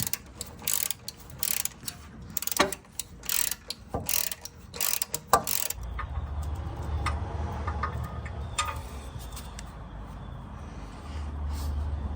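A ratchet clicks in quick bursts while loosening torque converter flex plate bolts on a truck engine, followed by a low mechanical rumble and scattered metallic clinks in a garage.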